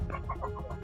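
Poultry farm hens clucking in a quick series of short, close calls during hot weather, several birds overlapping in a busy rhythm with no talk.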